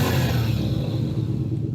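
A deep Lexus IS500 V8 engine rumbles loudly at close range, a heavy low growl that holds steady and then eases slightly as it settles.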